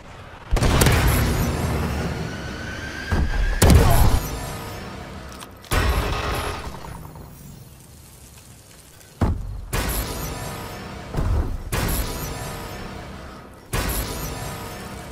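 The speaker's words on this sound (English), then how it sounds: "Friendly missile strikes incoming" Missile strikes in a Call of Duty: Advanced Warfare team deathmatch on the Recovery map land as a series of heavy, booming explosions, about six loud blasts spaced a second or two apart, each rumbling and decaying before the next.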